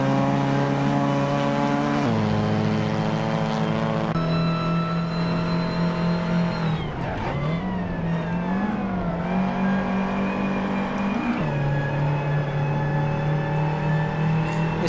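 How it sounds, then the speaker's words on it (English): A race car's engine and exhaust in the Assetto Corsa driving game, a loud sustained droning roar with gear-shift steps and a brief dip and climb in revs, close and continuous with no talk. "Listen to that exhaust."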